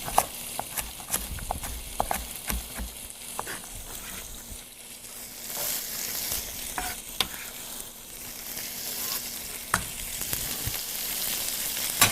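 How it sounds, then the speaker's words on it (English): A pot of water with chopped carrot boils on the stove for couscous, giving a continuous bubbling hiss broken by scattered small clicks and clinks. It is fairly close and heard without talk. "that's boiling now."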